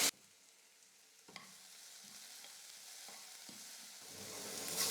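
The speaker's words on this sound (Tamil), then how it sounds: "ஓரளவுக்கு வெங்காயத்தை வதக்கிக்கிட்டால் போதும்" Onions with a little salt sauté in a pan for a dosa topping, a soft, steady sizzle broken by several light stirring scrapes, swelling slightly toward the end.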